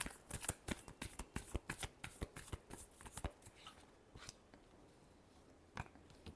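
A deck of tarot cards is shuffled close up in a run of crisp riffling flutters and taps that thins out toward the end, with no talking.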